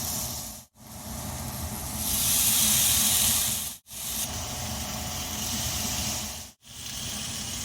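Masala-marinated fish dropped into hot oil, a loud hissing sizzle that swells and holds steady between short cuts, heard alone without talk.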